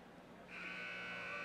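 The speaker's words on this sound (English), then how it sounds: "And there is the buzzer." Buzzer at a girls district championship high school basketball game in a gym, a sustained steady electronic tone starting about a third of the way in and holding to the end over faint crowd noise.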